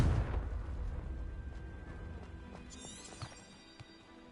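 A Confringo fire spell in Hogwarts Legacy goes off with a loud booming blast at the start, then a rumbling decay that fades over a few seconds, with faint scattered game effects near the end.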